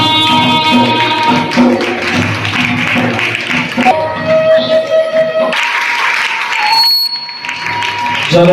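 An audience claps at a felicitation ceremony honouring a Jain acharya, a dense sustained patter of applause blended with loud ringing tonal sounds, easing off and thinning toward the end.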